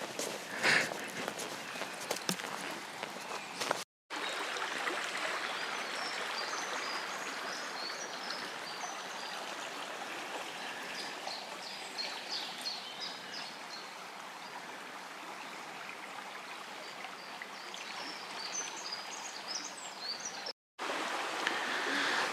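A river flows steadily along a hiking trail in a valley, with a continuous rushing wash and small birds chirping faintly above it, along with occasional footsteps.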